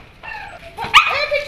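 A stray dog yips and barks in a quick burst outdoors, a whimpering cry rising into a sharp loud bark close by, with a few shorter yelps trailing after.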